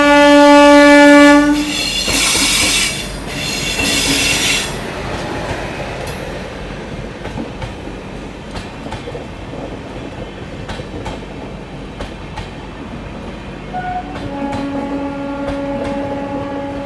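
The Bihar Sampark Kranti Express departs Aishbagh railway station with a loud, close horn blast, then a low rumble and rhythmic wheel clatter as the train moves off, and a second horn sounds near the end.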